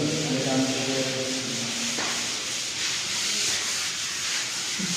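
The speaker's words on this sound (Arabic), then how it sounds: "الرجاله هي شغاله نحت قبل التشطيب" Workers carving and sanding wood before finishing, a steady close abrasive rubbing and scraping that runs through the whole stretch without a break, with no talk over it.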